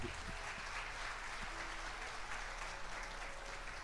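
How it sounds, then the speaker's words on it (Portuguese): A church congregation at a Sunday service claps together in steady, dense applause that holds evenly for several seconds, with faint voices underneath. "aplauda o Senhor Jesus"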